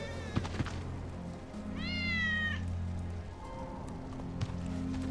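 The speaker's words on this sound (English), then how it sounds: "That's Wedge's cat." A cat from Final Fantasy VII Remake, Wedge's cat, lets out one clear drawn-out meow in the middle, over a steady game-ambience hum with a few soft thumps.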